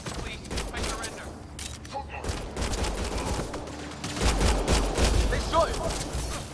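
Gunfire in the game Mass Effect Andromeda: a dense, continuous fusillade of shots swelling louder toward the end, with voices talking underneath.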